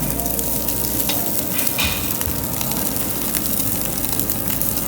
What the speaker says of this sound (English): That's that tomahawk steak cooking.